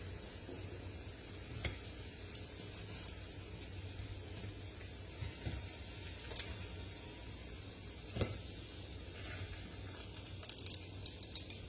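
Fritters frying in a pot of oil give a soft, steady sizzle with occasional faint pops and crackles, quiet and close, with no talking over it.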